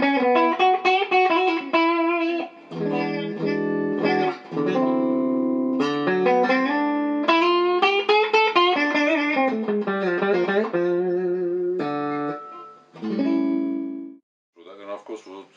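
An electric guitar, a 1965-66 Gretsch Tennessee Rose with out-of-phase pickups, plays a melodic phrase of single notes and chords with a thin, hollow, nasal tone, stopping briefly near the end.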